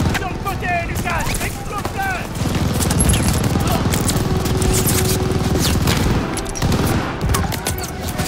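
Sustained automatic machine gun fire from a World War II battle at El Alamein in Call of Duty: Vanguard, loud and continuous over rumbling combat noise, with voices speaking under the shooting.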